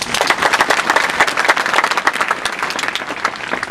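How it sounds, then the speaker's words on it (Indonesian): Church congregation clapping loudly for Jesus during a sermon, a close, lively roll of many hands with distinct sharp claps standing out in a quick, uneven rhythm. "Tepuk tangan untuk Yesus"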